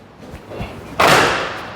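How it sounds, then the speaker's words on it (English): A heavy stairwell fire door in a freshly painted stairwell thuds open and then slams shut, a loud close impact at about one second that rings off and slowly decays. "so I'm sure this door can open"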